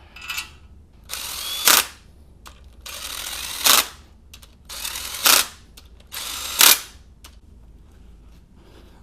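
A power tool drives bolts to fasten the two halves of a blown 2004 MINI Cooper S R53 engine block in a workshop, sounding as four separate whirring, ratcheting bursts with short pauses between them.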